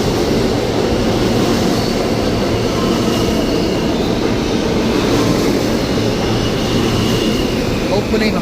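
An E train on the New York City subway rumbles loudly and steadily through an underground station, with constant roaring wheel noise and a faint squeal near the end, while people's voices are faintly mixed in.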